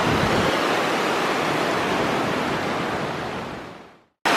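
A mountain stream rushes hard through the rocky Malpasset gorge near Val d'Isère, a loud, dense, continuous roar that fades out near the end of the clip.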